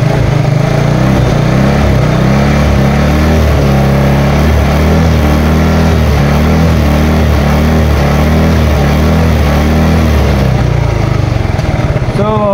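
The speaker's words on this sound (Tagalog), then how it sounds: "Pero pagka na-rev po natin yan" A car engine revs steadily during a battery charging test, its loud, continuous drone holding a low pulsing rhythm throughout with voices talking faintly over it.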